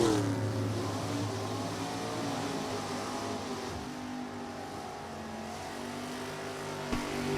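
A big block Chevy 615 drag racing car at an NHRA index race idles with a steady deep engine drone, loud and close, with a brief blip near the end and no talk.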